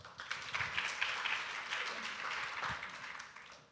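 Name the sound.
audience applause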